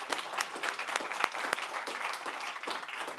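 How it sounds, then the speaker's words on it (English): An audience at a real estate company's live event in Shelby Township near Detroit claps for the event sponsors, a moderate round of applause with distinct individual hand claps scattered through a steady patter. "let's give our sponsors a big round of applause"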